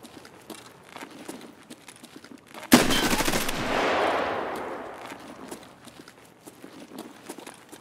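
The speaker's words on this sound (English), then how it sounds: "this M4 is very loud" An M4 rifle fires in the game Escape from Tarkov: one loud, close report with a long echoing tail. Quieter footsteps and movement patter continue before and after.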